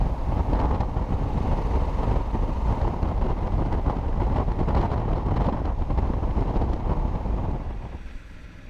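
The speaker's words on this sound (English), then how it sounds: "here you should be able to hear a bit of wind buffeting" Wind buffeting roars steadily behind the Honda CRF1100 screen while riding, a loud broadband rush that stays constant for several seconds before easing off near the end.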